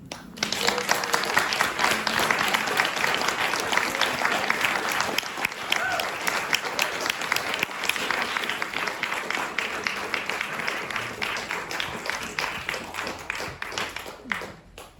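A poetry reading audience breaks into sustained applause after a poem, dense, even clapping from many hands lasting about fifteen seconds before it tapers off.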